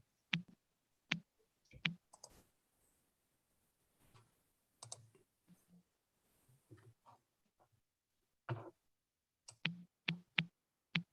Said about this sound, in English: the typing's not me